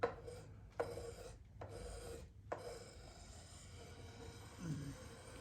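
Several long scraping strokes of a spokeshave across wood, each a rasping pass separated by brief pauses, close and fairly quiet.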